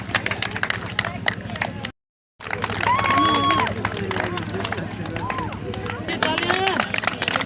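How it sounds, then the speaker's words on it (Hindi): Crowd applause at an Independence Day mini marathon prize announcement, a steady patter of clapping from an outdoor crowd with babble and voices over it, briefly cut out near the start. "एक बार जोर से तालियां और"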